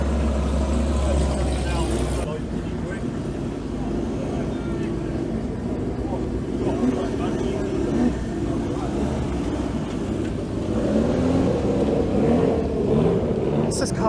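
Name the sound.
rally Porsche race car engine at hillclimb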